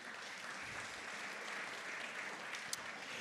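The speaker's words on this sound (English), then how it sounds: "So one more round of applause for Sundar." Sustained audience applause at an innovation and entrepreneurship awards night, a dense, steady wash of many hands clapping at even loudness throughout, with no voices over it.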